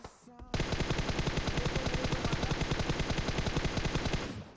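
Sustained automatic gunfire from PUBG, a continuous rapid burst of shots that starts abruptly and runs loud and steady for about four seconds with no talking.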